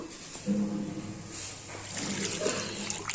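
Water from a mixer jar poured into a masala brinjal curry in a pan, a close splashing pour with sizzling that swells midway and continues to the end.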